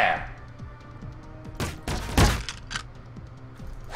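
Gunfire strikes the player during a loot-crate shooter video game, with a cluster of loud, sharp bursts midway through, one especially heavy hit near the middle, over game background noise and shouting.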